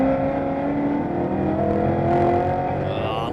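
V8 Ute race cars racing at Winton Motor Raceway, a loud sustained engine roar with shifting pitch as the cars power through, heard from trackside with no talk over it.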